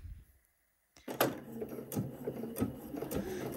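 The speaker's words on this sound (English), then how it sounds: "Let's sew our side seam." After a brief pause, a sewing machine starts up stitching the side seam of a bodice, running at a steady, moderate pace with a soft rhythmic mechanical hum and ticking, close and fairly quiet.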